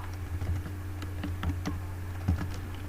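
Rapid, irregular typing of code on a computer keyboard, with close, crisp key clicks in short bursts over a steady low hum.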